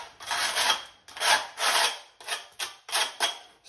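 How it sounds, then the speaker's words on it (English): A trowel scraping a thin layer of tile cement across the back of a shower wall tile, a series of about eight close, rasping strokes with short pauses between them. "So all we're doing is a thin layer all on the tile, scrape off any excess."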